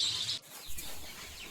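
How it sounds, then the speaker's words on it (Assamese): Four-day-old local chicken chicks on a small farm, faint high peeping chirps clustered at the start, then softer scattered cheeps over quiet background noise. "আজি মই দেখুৱাব গৈ আছোঁ চাওক লোকেল মুৰ্গী পোৱালি 4 দিনৰ পোৱালি"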